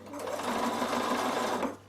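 A sewing machine stitching steadily onto a small scrap of fabric, a close, continuous rapid whirring run of under two seconds that stops abruptly, with no talking.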